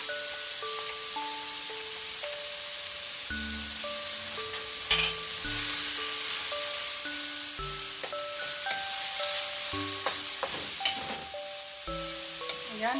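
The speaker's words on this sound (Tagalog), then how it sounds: "isusutay lang natin siya na mabuti ka-friendship para na mag-spread yung lasa" Water spinach and shrimp paste crackle and hiss in a frying pan as they are stirred, a steady close sizzle with occasional clanks of the utensil, heard under soft background music.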